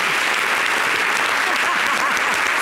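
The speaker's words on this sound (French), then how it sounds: "Applaudissez pour lui." Dense, loud audience applause fills a live stage talk show broadcast, with continuous clapping and crowd noise throughout and a faint voice underneath.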